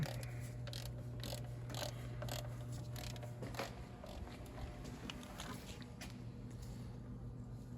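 A ratchet on a flex-joint extension tightens control arm bolts on a 2011 Hyundai Santa Fe, giving rapid repeated clicking in bursts, close but quiet over a low steady hum.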